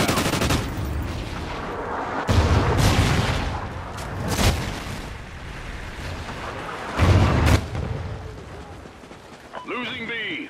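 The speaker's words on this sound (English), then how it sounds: "Friendly Trinity rocket inbound." Trinity rocket strikes hit the Stonehaven map in Call of Duty: Ghosts Domination, several heavy booming blasts spaced across the stretch over steady battle noise, with voice announcements near the end.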